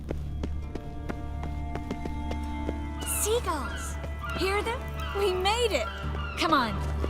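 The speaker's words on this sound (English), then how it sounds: "Seagulls! Hear them?" Seagulls call at a harbour in The Witcher 3, a few bright, wavering cries rising and falling in the second half over a low engine-like drone and game background.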